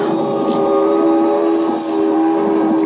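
A train in a video game starts up with a loud, sustained horn-like tone held steady over a rumbling engine for a few seconds, up close and with no talking.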